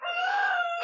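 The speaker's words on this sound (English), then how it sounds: "Scared rooster." A frightened rooster crows once, a single sustained, tonal call lasting under a second, close and loud with no talk over it.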